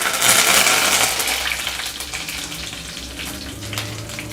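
Curry leaves fry in hot oil with mustard seeds, cumin and dried red chillies, giving a loud, close crackling sizzle that bursts at the start and then settles into a steadier hiss, with no voices.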